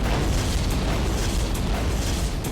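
Anti-tank missile blasts in Roblox War Tycoon, heard as a loud, continuous rumbling boom that fills the whole moment with dense low-end roar and no voices.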